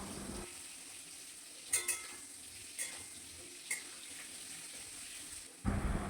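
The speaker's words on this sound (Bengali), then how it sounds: "সামান্য নুন হলুদ দিয়ে মিশিয়ে নিয়ে মিনিট খানেক ভেজে নেব।" Potato and papaya pieces fry gently with salt and turmeric, a soft, even hiss of oil with several isolated metallic clinks of a stirring spoon and a louder scrape near the end.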